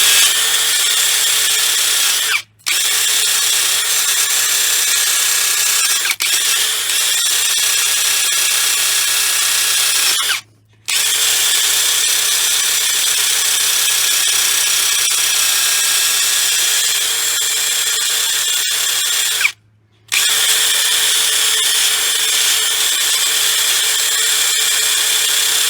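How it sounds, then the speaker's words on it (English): A power-driven wire wheel grinds rust off a brake caliper bracket from a GMC or Chevrolet SUV, a loud continuous high whir with steady abrasive hiss, briefly stopping three times before resuming. "wire wheel them to death"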